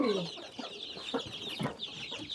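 Chickens cluck steadily inside Rathiyamma's chicken coop. Overlapping hen calls and short clucks come in irregular bursts, close and fairly loud, with no talking.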